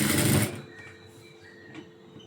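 A sewing machine runs a short, rough tacking stitch on a blouse: a brief loud mechanical whirr at the start that stops suddenly, followed by faint clicks and quiet room noise.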